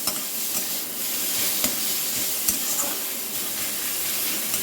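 Carrots and mixed vegetables fry in a pan for Maggi noodles, giving a steady loud sizzle broken by the scrape and clatter of stirring, with no voice heard.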